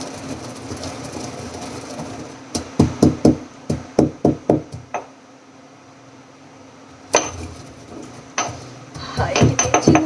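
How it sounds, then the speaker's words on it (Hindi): Cumin and coriander seeds being coarsely pounded in a mortar, heard as a run of about ten sharp rhythmic thuds, a pause, then more strikes and quicker clattering pounding toward the end. "और इसमें मैंने लिया है जीरा और थोड़ा सा धनिया, ठीक है, इसको मैं थोड़ा कूट लूँगी दरदरा सा"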